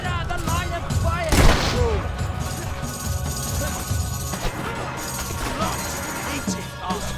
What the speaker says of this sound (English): Just stop all that shooting nonsense!